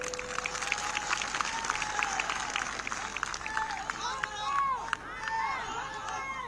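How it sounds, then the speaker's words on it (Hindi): Crowd clapping at an outdoor political rally in Tripura, a dense steady patter of many hands with scattered cheers, loud and continuous throughout. "हमारी बात सच हो तो ताली बजाइएगा"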